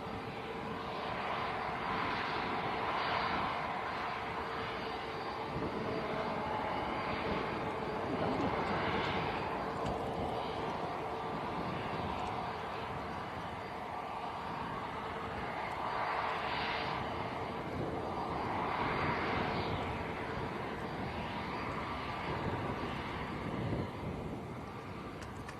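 Airbus A321neo jet at Manchester Airport, a continuous broad engine roar that swells and fades slightly over about twenty-five seconds, heard outdoors with wind buffeting the microphone.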